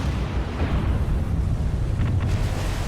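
Naval gunfire shells exploding at sea in War on the Sea, a steady loud roar of booming blasts and rushing wind-like noise with a few sharper cracks near the end.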